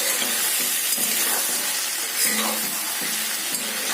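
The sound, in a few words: chicken meat being stirred while frying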